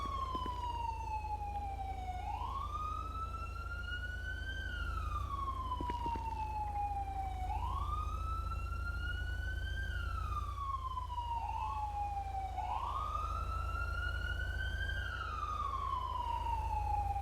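An NPC ambulance siren in GTA plays a wailing tone that rises and falls in three slow sweeps, steady and fairly quiet over a constant low rumble.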